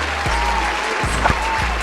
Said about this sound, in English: Everyone, let's make a round of applause for my best friend, Stacy.